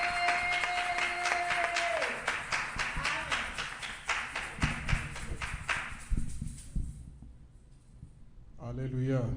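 A church congregation applauds with quick, uneven clapping that dies away after several seconds, with a voice speaking over the start and again at the end.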